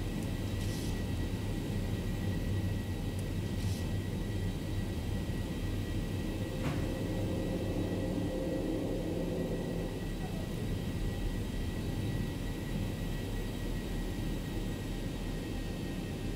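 Steady broadband roar of airliner engines at climb thrust in the flight simulator X-Plane 11, constant and even throughout with a low rumble underneath and a faint brief click partway.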